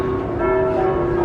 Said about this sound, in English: you can hear all of the church bells going off